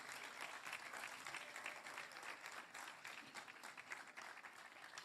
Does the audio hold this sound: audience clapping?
yes